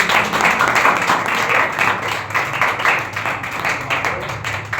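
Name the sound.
congregation clapping in worship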